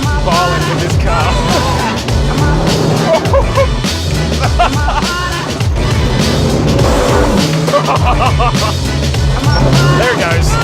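Car sliding around a skid pan, engine revving and tires squealing in loud, continuous bursts close by, with people talking over the noise.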